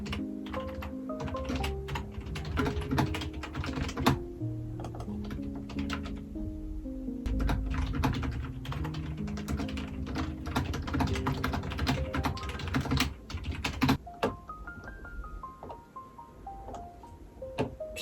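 Keys clatter on a satisfying mechanical computer keyboard in a quiet room, a steady run of close, crisp clicks and thocks with small pauses.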